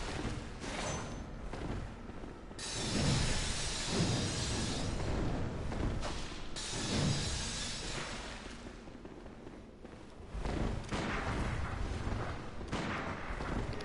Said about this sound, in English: He has the Church's repeating pistol as well, which fires 2 bullets at once.